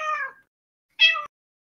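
A house cat meows twice close to a microphone, a drawn-out call followed after a short silence by a second, sharper meow.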